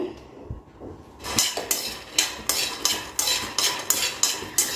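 About a cup of peanuts roasting in a pan, scraped and stirred with a spoon in a steady rhythm of about two sharp rattling strokes a second, close and clear with no voices.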